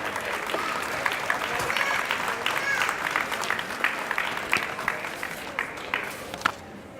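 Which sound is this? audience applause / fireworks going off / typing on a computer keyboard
audience applause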